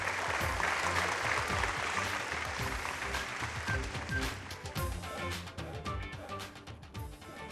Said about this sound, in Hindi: आइए और जोरदार तालियां इनके लिए